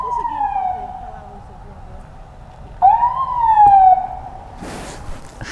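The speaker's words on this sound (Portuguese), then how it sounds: "Chegando o SAMU aí pro socorrer o rapaz aí." A SAMU ambulance siren arriving at the scene of a serious car-and-motorcycle accident, wailing in slow rising and falling sweeps that grow louder near the middle, followed by a brief burst of broadband noise near the end.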